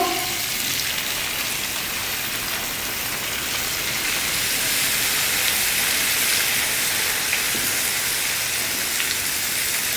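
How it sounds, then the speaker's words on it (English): Marinated steak chunks sizzle loudly in hot foaming butter in a crowded pan, a dense steady hiss that carries on without a break for the whole stretch. "Can you hear that sizzle?"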